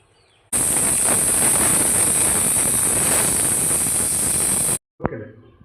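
A pressure cooker cooking sambar rice lets out a loud, piercing steam whistle with a harsh hissing roar. It holds steadily for about four seconds, then cuts off abruptly, followed by a brief clatter.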